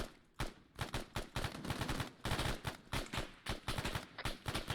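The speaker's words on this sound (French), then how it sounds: "Des par-coups de feu sud-ouest." Gunfire in the video game Arma 3 comes as rapid bursts of sharp, loud shots in quick succession, with a few brief gaps between volleys.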